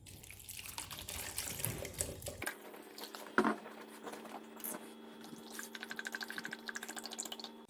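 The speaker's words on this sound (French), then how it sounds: "on va placer les 2 œufs dans le récipient et on va les recouvrir de vinaigre" Vinegar poured over two eggs in a container, a steady trickling stream of liquid with a brief louder splash midway and faint dripping toward the end, heard close with no talk.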